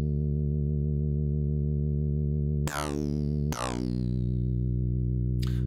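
Synth bass from Native Instruments Massive with an envelope modulating wavetable position and formant: a sustained buzzy low note, then two sharp retriggered attacks with sweeping bright tops, ending in a short burst.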